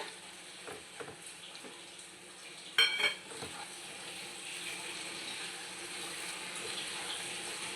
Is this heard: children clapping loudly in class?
no